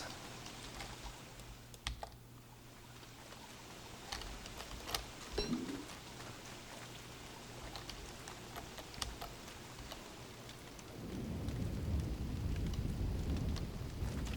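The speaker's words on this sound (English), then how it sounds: "Can't take out our parasol until this rain stops" Rain patters lightly and unevenly on a swamp in a survival video game, with scattered taps and clicks, and a dense rush of heavier rain builds over the final few seconds.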